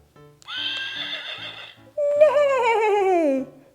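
A horse whinnies twice, close and loud, in a children's animal lesson: a long high neigh, a short pause, then a second wavering whinny that trails off.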